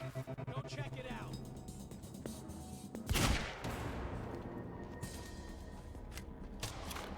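Sniper gunfire in the game Quantum Break: one loud sharp crack stands out midway, with fainter shots and game noise around it, and a voice talking beneath.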